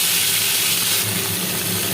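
Vegetables fry in a pan with mustard seeds for shukto, giving a loud, steady hissing sizzle that holds evenly from start to finish with no talking.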